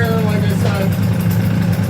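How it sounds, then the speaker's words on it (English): A 1976 Harley-Davidson SS250 motorcycle engine idles on its own with a steady low rumble, close by, while someone talks over it. "I just wanted to show you it's up and running. It's idling on its own."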